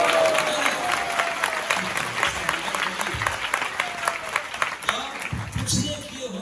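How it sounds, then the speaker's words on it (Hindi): A crowd at an ISKCON temple gathering in Dwarka claps together in a loud, sustained burst of applause, with voices mixed into the dense clapping. "उसके साथ साथ तालियां बजाइए।"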